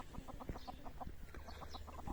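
A hen clucks in a quick, steady series of short soft notes, fairly close, with faint farmyard background noise.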